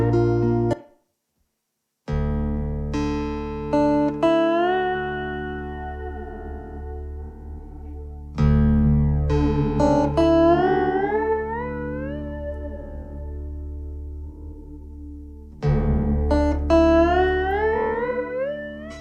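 Sustained synth tones run through a TB Reelbus tape-style delay whose LFO-modulated delay time makes the echoes warble and bend in pitch, repeating in three long phrases separated by brief gaps, with no one speaking.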